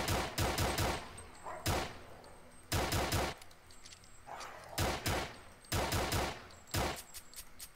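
Bursts of rapid gunfire from the video game Dismantled Director's Cut, loud, close and repeated in short clusters with brief pauses between volleys, nobody talking.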